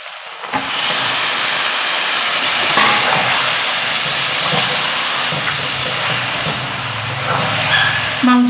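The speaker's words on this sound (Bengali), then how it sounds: "এবার আমি মাংসটা দেব।" Mutton hits hot spiced oil and sizzles loudly in a broad, continuous hiss that holds steady, with faint stirring clinks under it.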